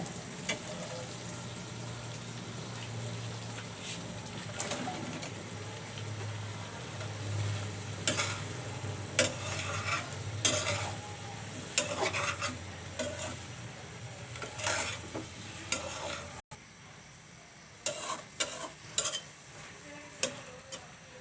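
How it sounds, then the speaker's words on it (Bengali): Eggplant cooks in a pan with fried fish belly, giving a steady low sizzle punctuated by repeated sharp clicks and scrapes of a utensil stirring, with no talking, the frying fading quieter near the end. "মাছের পেটাটো কষানো হয়ে গেল এখন আমি এখানে বেগুন দিয়ে দিব"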